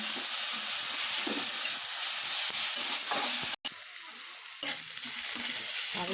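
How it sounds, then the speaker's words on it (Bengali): Vegetables stir-frying in a pan with a little black pepper for veg roll filling give a steady, close sizzle with stirring scrapes, broken by a brief drop-out partway through. "অল্প দেবো গোলমরিচ দিয়ে বেশি দেবো না এবার ভাজবো সুন্দর করে"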